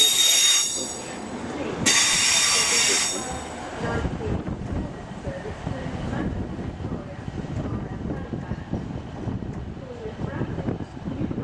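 A train arrives from Manchester at Leeds station, with a high wheel squeal early on giving way to a rumbling, rattling roll of carriages that stays close and loud, plus some wind buffeting on the microphone.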